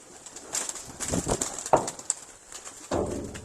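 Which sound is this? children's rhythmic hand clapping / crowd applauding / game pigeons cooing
game pigeons cooing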